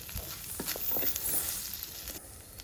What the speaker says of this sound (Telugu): అల్లం వెల్లుల్లి పేస్ట్ కూడా వేసుకుంటున్నాం అండి అన్నీ వేసుకుని కలుపుకుంటున్నాం అండి